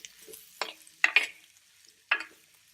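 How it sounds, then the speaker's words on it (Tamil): Long-cut brinjal sautéing in a pan for a Kerala-style fish curry: a few separate, brisk scraping strokes of the spatula over a quiet, faint sizzle, heard close up with no talking. "கத்திரிக்காய் வதங்கணும்."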